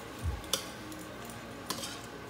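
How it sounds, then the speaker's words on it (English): Pork being mixed into a tripleta sandwich filling, with a couple of sharp utensil clinks and a soft thump against a pan over a quiet kitchen background. "Now you can mix the whole thing."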